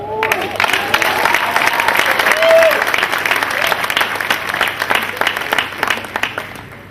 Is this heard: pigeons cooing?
no